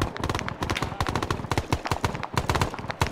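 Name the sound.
flak gun firing in Arma 3 video game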